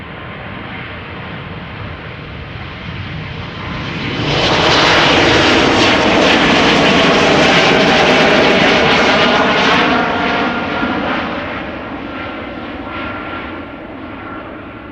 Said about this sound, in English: In the background, KLM Flight 691, which will be going to Toronto, 787-10 Dreamliner